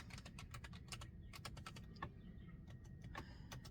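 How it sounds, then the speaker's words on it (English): Computer keyboard typing, quick irregular clusters of soft key clicks close up over a low steady background hum, no voices. "So let's type in gentleness."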